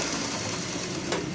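Rhythmic tapping knock from a 660cc car engine idling, a steady mechanical ticking over a continuous engine drone, close and fairly loud with no voices.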